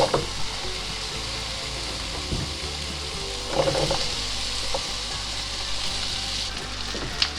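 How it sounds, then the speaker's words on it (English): Onion frying in reserved bacon grease in an outdoor Dutch oven gives a steady, moderate sizzle, with a few scraping stirs and brief clatters along the way. "I've reserved a little bit of the bacon grease there, and we're gonna go ahead and cook our onion down."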